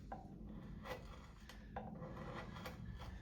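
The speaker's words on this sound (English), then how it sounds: "with the smaller gouge, look, I'm tearing fibres up" A small wood gouge tears up wood fibres in a run of faint, close scraping and rasping strokes, each a short rough rub with brief pauses between, set against a low steady background hum.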